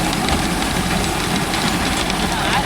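A Mahindra 605 tractor engine drones steadily while pulling a rotavator through farmland, a dense continuous rumble with no distinct beats, close and loud throughout.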